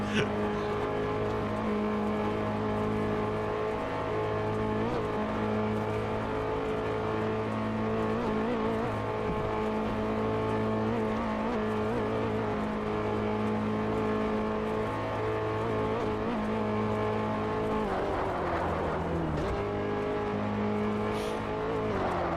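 A Dodge Viper sports car in the video game Test Drive Unlimited 2 drones loudly and continuously, its steady whine shifting pitch late on as it cruises past.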